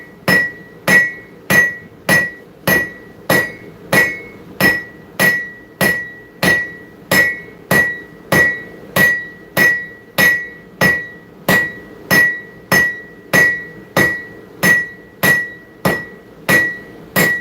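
A blacksmith's hammer pounds hot metal in a forge workshop, sharp ringing strikes landing in a steady, evenly spaced rhythm about every 0.7 seconds, loud and close with no talk.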